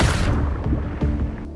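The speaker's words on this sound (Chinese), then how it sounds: "冰层便出现无数裂痕。" Frozen lake ice cracking under a running girl in a film scene: a loud, deep rumbling crack that rolls on with a few sharper snaps, close and forceful, with no speech.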